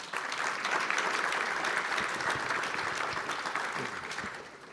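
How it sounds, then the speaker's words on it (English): An audience claps for a panel of speakers in a sustained round of moderately distant applause that holds steady and then fades slightly at the close. "So I'd like you all to give them an applause"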